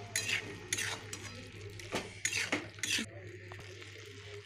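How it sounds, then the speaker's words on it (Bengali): Poppy seed paste being stirred with ridge gourd and lentil dumplings in a pan, quiet close scraping strokes of a utensil against the metal pan in uneven bursts over a faint sizzle. "এরপর ভালো করে আমি নাড়াচাড়া করে নিচ্ছি।"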